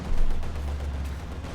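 Artillery strikes and explosions from the Company of Heroes 2 strategy game, a heavy low rumbling blast that peaks early and then rolls on as a sustained dull roar, with no talk.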